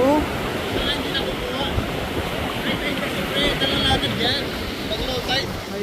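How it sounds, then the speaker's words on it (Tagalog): Strong sea waves churn around a mussel farm, a continuous rushing surf blended with heavy wind buffeting the microphone, loud and unbroken throughout. "Medyo malakas ang alon"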